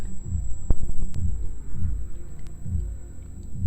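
A Canon LC-E6 battery charger gives off a faint, rhythmic low pulsing hum, a regular throb repeating roughly every second with a thin steady whine above it and occasional small clicks, no voices present.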